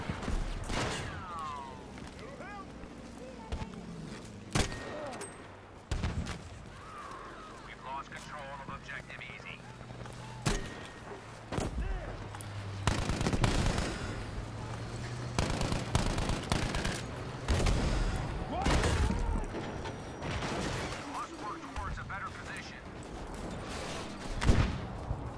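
Rifle gunfire in a Battlefield V battle, with repeated sharp shots and bursts of automatic fire across a noisy soundscape of aircraft, vehicles and distant combat, fairly close, while someone talks over the action.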